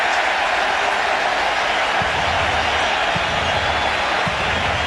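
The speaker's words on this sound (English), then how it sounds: "That kind of noise from a big crowd in this ballpark" A big crowd roars at Yankee Stadium during a baseball playoff game, a loud, steady wash of cheering and noise that holds without letup, with a few faint thumps underneath.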